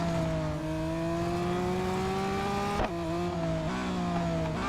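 Race car in Real Racing 3 losing grip, with a sustained high engine whine that shifts pitch around a brief tire squeal, steady and loud.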